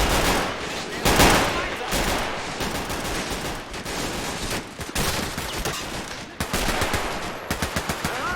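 Machine-gun fire in Men of War: Assault Squad 2, in a 1945 German defense of Foy during the Battle of the Bulge: rapid rattling bursts and scattered shots, loud and steady throughout, with occasional heavier impacts and someone speaking over the fighting.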